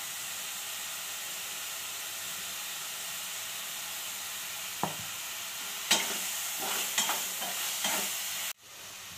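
Masala with chili powder and coriander powder cooking in a pan: a steady near sizzle and hiss, then a run of scraping stirs in the latter half before it cuts off abruptly.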